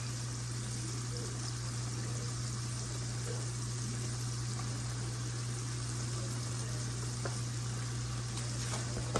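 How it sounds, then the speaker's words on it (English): Ground beef sizzles and hisses steadily in a pan with onion, celery, bell pepper and garlic, a continuous bubbling crackle with a low steady hum underneath. "So we're gonna throw that in there as the ground beef is cooking."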